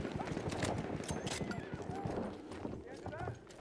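Hooves clip-clop and a horse whinnies in a shooter video game, the sounds mixed with gunfire and players talking over them.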